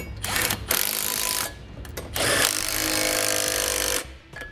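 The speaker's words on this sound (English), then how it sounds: "now with them all started, let's snug them down. For that, a 17mm will work." A power tool spins hitch bolts on a 2013 Volkswagen Tiguan with a 17mm socket during a trailer hitch install, in two loud whirring bursts of about one and two seconds with short pauses between.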